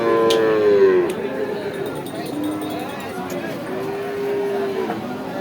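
A Friesian heifer at a cow farm gives a clear moo at the start, followed by softer lowing calls, set against low background chatter and farmyard noise.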